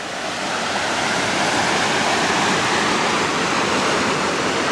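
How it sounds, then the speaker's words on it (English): Rushing creek water at a trail crossing in the Cascades, a close, continuous broadband roar that holds steady with no gaps and no voices. "It's our first creek crossing."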